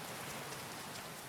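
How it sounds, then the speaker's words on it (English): Steady rain falls in the video game Grimshire during spring, a dense, even hiss with no breaks and no voices. "And it's been raining a lot since we're in spring."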